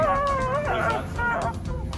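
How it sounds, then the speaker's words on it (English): Elephants trumpeting at a sanctuary in Phuket, Thailand, a loud, wavering, tonal call that rises and falls, close by, with no talk over it. "Hear them trumpet."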